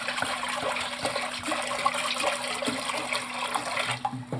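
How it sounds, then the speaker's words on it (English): Bottled alkaline water poured into a cooking pan, a steady loud rushing splash that runs continuously for several seconds with no talking over it. "The first thing we're going to do is put some water into the pan."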